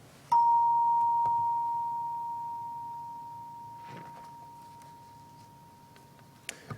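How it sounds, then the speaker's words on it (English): A small bell is struck once to begin a Sunday worship service and rings on as a single pure tone that fades slowly over several seconds in a quiet room. "So I will ring the bell, and we will worship together."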